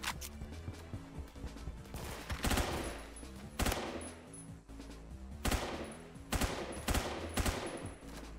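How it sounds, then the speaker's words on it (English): Bursts of automatic gunfire in the Roblox first-person shooter Phantom Forces, loud, dense volleys with single sharp cracks between them in a chaotic battle, continuous throughout and with no talking. "who else is shooting at me?"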